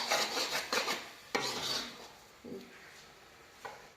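Grated coconut being roasted with sugar in a wok over a gas flame for coconut ladoo, heard as repeated scraping and stirring strokes of a spatula, several bursts spaced a second or so apart, close and with no one talking.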